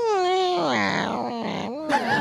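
A human voice imitates a cat screeching after being slapped, a drawn-out wavering wail that rises, bends and breaks off, then a short sharp yelp at the end.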